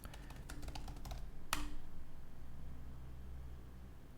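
Rapid clattering keystrokes on a computer keyboard while code is typed, dense and close at first, then a single louder key thump before the typing thins out under steady room hiss.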